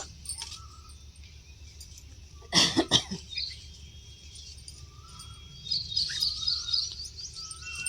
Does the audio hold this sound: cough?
yes